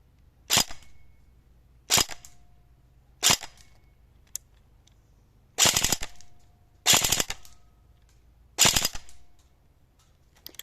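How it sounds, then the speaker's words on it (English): A J.G LK58 airsoft gun with electric blowback fires in semi and full auto: three single sharp snaps, then three short rattling bursts, crisp and close against near silence. "let's see if we can get a better view of the electric blowback function in action"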